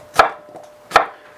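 Two sharp knife strokes through vegetables on a cutting board, cutting them into French-fry-sized planks for a green chile pork stew, close and crisp with a pause between them and no talking.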